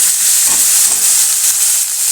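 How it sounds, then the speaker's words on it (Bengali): A bitter gourd and potato fry hits hot oil in a wok, bursting into a loud, close, continuous hissing sizzle that stays strong and even throughout. "কড়াইতে তেল আছে, তেল গরম আছে, তেলের মধ্যে এখন উস্তে আলু ভাজাটা ঢেলে দেবো"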